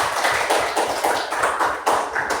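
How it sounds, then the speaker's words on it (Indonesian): Students in a sixth-grade mathematics classroom clap their hands together for a group, a steady, fairly close round of overlapping claps with a rhythmic pulse lasting a couple of seconds, no talking. "ayo kasih tepuk tangan untuk nomor 2"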